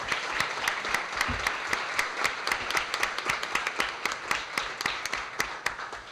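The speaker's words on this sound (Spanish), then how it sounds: "les pido que se unan conmigo para darles las gracias con un aplauso a nuestros ponentes" Sustained audience applause at an academic conference, dense overlapping claps from a large crowd thanking the speakers, steady throughout with no voices.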